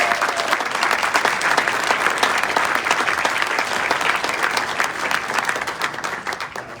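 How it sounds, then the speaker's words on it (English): Steady, dense applause from a large audience fills a sports hall of fame ceremony, a continuous wash of clapping that holds evenly for several seconds before easing slightly at the end. "Give Mike a round of applause."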